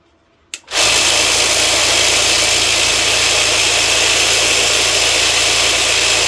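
A Tumble-Vibe 5 vibratory tumbler switches on after a brief silence, then settles into a loud, steady motor hum and rattling buzz that runs continuously and close by, with no talking.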